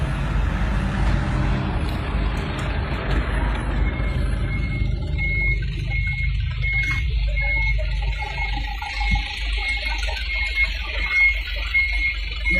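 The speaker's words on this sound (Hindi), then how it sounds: "40 हाई क्यूब कंटेनर है जो यहाँ पे कंटेनर जा रहा है" A heavy truck hauling a 40-foot high cube container rumbles past at an export yard, loud and near at first with a low engine drone, then a hiss like an air brake as the noise eases and thins.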